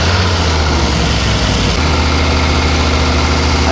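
A Morris Minor car engine runs at around 2,000 RPM, a loud, steady, close drone with a deep low rumble and no pauses.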